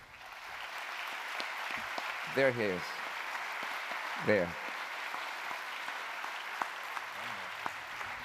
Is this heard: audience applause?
yes